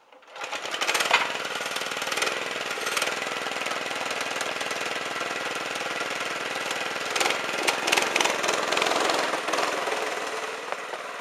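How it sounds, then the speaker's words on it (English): A go-kart's 5.5 hp small engine, running on choke, starts and runs steadily with a rough, buzzing clatter, close and fairly constant for several seconds, no voices. "here is my go-kart test drive with the new motor. Uh, so here, let me start it"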